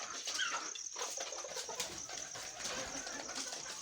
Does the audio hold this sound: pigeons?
yes